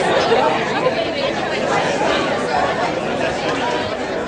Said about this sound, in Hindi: उधर बाहर खड़ी भीड़ का शोर अदालत के अंदर तक आने लगा था।